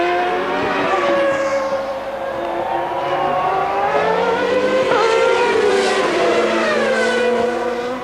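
Formula One cars race close together at high pitch, engines whining and rising through gears as Schumacher chases Alesi, who is on badly worn tyres, in 1995; the wailing drone continues unbroken and loud.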